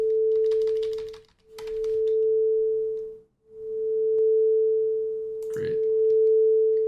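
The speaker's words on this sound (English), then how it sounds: "we got a little sine wave oscillator going" A steady pure sine wave tone from an oscillator in the purescript-wags audio library, holding one pitch and breaking off twice briefly before resuming, with faint clicks and a short burst of noise near the end.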